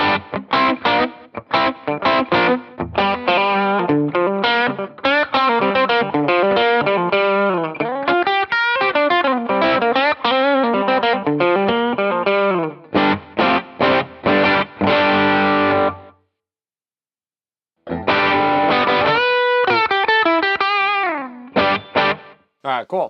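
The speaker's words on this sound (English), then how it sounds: "Let's say, for instance, that you want to add a slap back in there. Let's go in here to a tape echo" Electric guitar played through a tape echo set for slapback on a Headrush rig, loud and continuous with distorted, chorused tone, quick picked notes and chords trailing short repeats, one brief full stop near the end before playing resumes.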